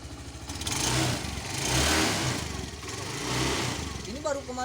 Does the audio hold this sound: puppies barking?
no